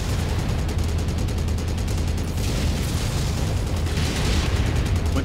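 Mech weapons pound a Warhammer mech in MechWarrior 5, a dense run of rapid repeated shots and booming impacts, loud and continuous with rumbling low end and brief crackling bursts.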